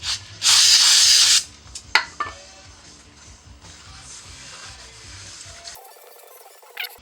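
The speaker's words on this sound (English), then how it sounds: "we're going to clean all of the metal surfaces of the pressure plate, the floater, and the flywheel with some brake clean first" A can of brake cleaner sprays loudly in one sustained hiss for about a second onto a clutch pressure plate in a garage, followed by faint rubbing and small clinks.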